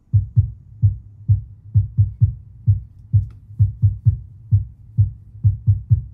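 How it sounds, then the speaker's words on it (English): Heartbeat sound effect in a produced pop song: a deep, thumping double-beat pulse repeating steadily and loudly, about two to three beats per second, alone without voices. "throughout the bridge, the heartbeat comes back in and it gets faster and faster"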